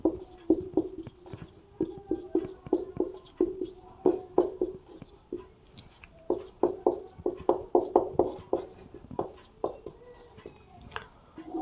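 A pen scratches out a symmetric-relation formula for a class 12 maths lesson, in bursts of short strokes and taps with brief pauses between them. It is fairly close and fairly quiet, with no talking over it.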